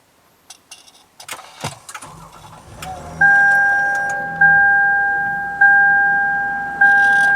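A 2013 Lexus RX350 F Sport starts up after a few key and cabin clicks, then settles into a steady idle with a repeating electronic chime sounding over the engine.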